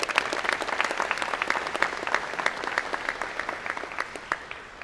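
A convocation audience at an engineering and computer science college applauds, a dense, steady patter of many hands clapping close by, with no talk over it.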